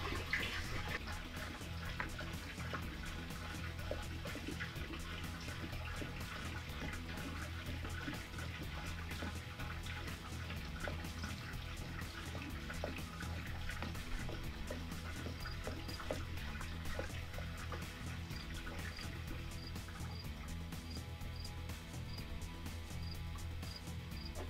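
Liquid weed killer, a full gallon of 2,4-D, pours steadily into a sprayer tank, giving a continuous gurgling, splashing flow that runs unbroken and fairly quiet throughout.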